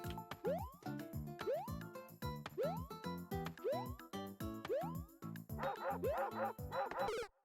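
A video game plays a string of repeated cartoonish dog barks and yips in a quick, regular rhythm, loud and alone, ending in a brief whimpering flourish.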